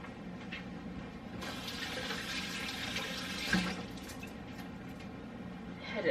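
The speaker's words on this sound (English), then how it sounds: "I'm gonna rinse it off." Beef is rinsed under a running kitchen tap, a steady rush of water that swells louder when the flow hits the meat, with a brief clunk midway.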